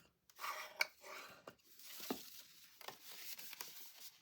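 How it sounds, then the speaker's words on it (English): A tool burnishing a folded paper pocket card, making soft, close rubbing and scraping strokes in short bursts with brief pauses between them. "I'm going to burnish this"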